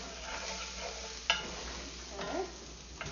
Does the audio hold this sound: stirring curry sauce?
yes